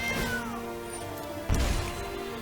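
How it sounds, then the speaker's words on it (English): A house cat meows clearly and close by in a rising, drawn-out call, followed by a sharper burst of noise partway through. "You have a cat. Okay, you do have a cat."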